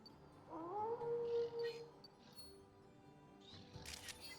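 A creature in a video game lets out a drawn-out howl with a rising, sliding tone that holds steady for about a second, then fades, followed by quieter game sounds and faint rustling.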